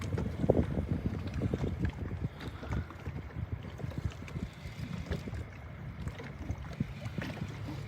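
Wind gusts over Reelfoot Lake during summer crappie fishing from a boat, a steady low buffeting rumble that keeps pressing on the microphone, with faint knocks of water and boat underneath.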